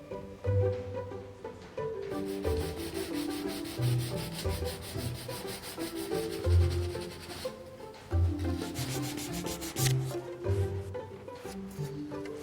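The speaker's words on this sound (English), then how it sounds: "Once I've finished sanding everything back here, I'm going to give the whole clock a couple of coats of polish." Steady, continuous rubbing scrape of sandpaper worked back and forth over a wooden clock case, close and rhythmic with no talk.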